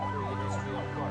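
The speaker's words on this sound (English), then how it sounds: "Thanks to mobile data communications, the ambulance paramedic is able to securely access Mr. Alonzo's medical records" An ambulance siren wails in rapid rising and falling sweeps over a low engine rumble, loud and continuous, with no talk.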